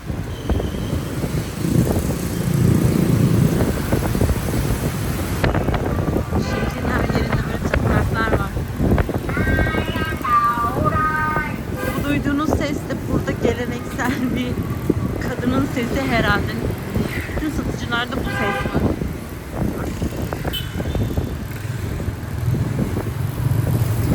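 Busy street traffic in Vietnam, with motorbikes and cars passing and engines rising and falling amid wind buffeting on the microphone, while a person talks over much of it.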